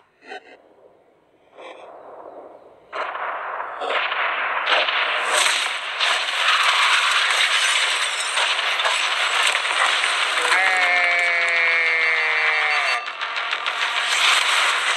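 A yacht is blown up after a short countdown: a quiet start gives way to sharp cracks and bursts, then a loud sustained roar of blast and debris lasting several seconds, with a brief whistling tone mid-way.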